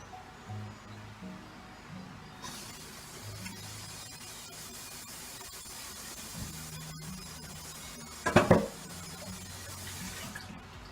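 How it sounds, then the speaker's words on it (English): Medicinal noodle broth with rose hips is strained from a pot. Low background noise gives way to a steady rush of pouring liquid, with a brief louder splashing burst near the end. "I'm going to strain it now"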